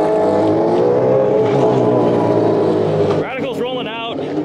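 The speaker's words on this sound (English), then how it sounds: "Radical's rolling out." Engine of a Radical SR3 race car rolling out onto the track at Autobahn Country Club, a steady rough motor drone with a rising rev near the end, under continuous nearby talk.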